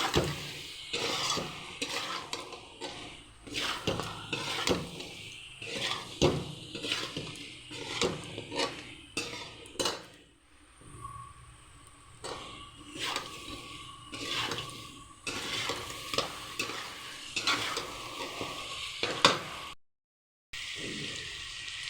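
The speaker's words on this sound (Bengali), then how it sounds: "এরপরে দিয়ে দেবো জিরে গুঁড়ো দিয়ে আবারও ভালো করে নাড়াচাড়া করে নিতে হবে" Mutton being stirred with cumin powder in a pan, Bengali style: a run of irregular scraping and clattering strokes against the pan over a soft sizzle, fairly close, with no talking, ending in a brief silence.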